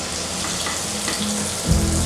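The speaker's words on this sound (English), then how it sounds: "So I'll just add a little bit of butter first and some oil." Butter and oil sizzle in a frying pan while pan-fried potatoes are being prepared, a steady close hiss of frying with a brief louder burst near the end and no talking.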